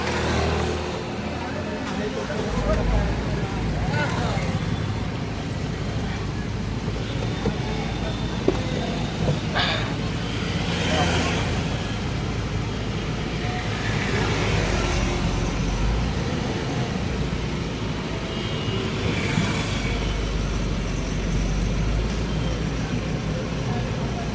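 A car engine starting and the car pulling off a roadside onto the road during a Ganesh immersion outing, steady loud engine and traffic rumble with occasional surges, people talking over it.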